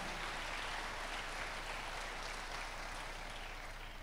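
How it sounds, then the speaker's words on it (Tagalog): A church congregation claps for the Lord during a Filipino prayer service, a dense, steady wash of applause held evenly throughout with no clear individual claps standing out. "Malakas na palakpak para sa Panginoon."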